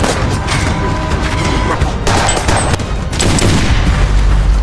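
Gunfire in an action film scene, a loud, dense burst of shots and blasts layered over a busy soundtrack, continuous for several seconds.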